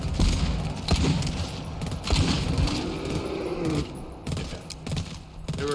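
Steady, dense gunfire from the video game Rundown 4, with rapid overlapping shots and bursts, including shotgun blasts, filling the whole stretch at close, loud level with no talking.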